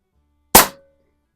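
A single sharp shot from a Pinty Striker .25 caliber bullpup air rifle, close and loud, with a brief metallic ring trailing off in an otherwise quiet space.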